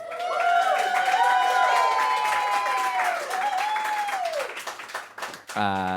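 Audience applause at a live open mic show of music and poetry, a broad round of clapping under voices and tonal sounds, fading near the end before a brief different sound.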